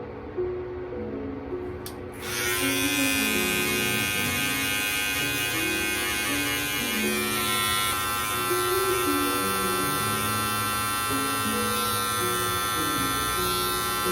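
Electric hair clippers buzz steadily and close at hand while fading a self-cut taper, the motor's even drone continuing unbroken after a brief quieter start, with no talk over it.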